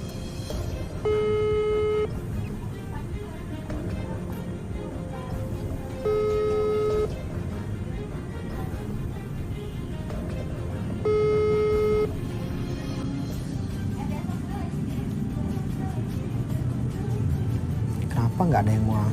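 Unanswered phone call ringing out, with three evenly spaced repeating tone bursts about five seconds apart, sounding under ongoing talk and background noise.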